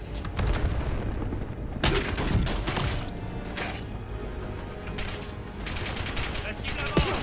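Dense gunfire from the video game Call of Duty Black Ops 7, bursts of automatic fire and heavy impacts crowding together without pause, with loud booms near the start and end and voices talking underneath.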